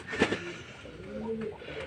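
Pigeons on a rooftop give soft, low cooing calls, close by and moderately loud, with a couple of burbling notes over faint background noise.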